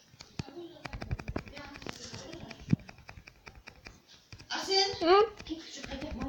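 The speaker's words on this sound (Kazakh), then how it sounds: "Біреу атып атыр." Rapid gunfire rattles from the Free Fire video game in quick repeated bursts, with children's voices talking over it and louder speech near the end.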